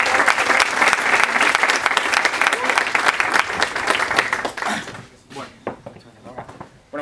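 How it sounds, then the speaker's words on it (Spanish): Loud, dense applause from a conference audience at a fintech unconference, welcoming speaker Jesús Pérez; steady for about five seconds, then thinning into scattered claps and a few voices as it dies away. "un fuerte aplauso para Jesús Pérez"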